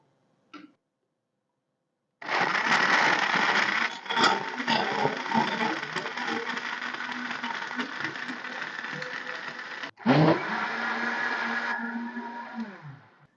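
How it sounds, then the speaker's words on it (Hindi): A kitchen blender whirs loudly and steadily while grinding sugarcane with jaggery and ice into juice, with a grinding, rattling texture. It starts after a brief click, pauses for a moment, then runs again before cutting off. "अब इसको करेंगे ब्लेंड"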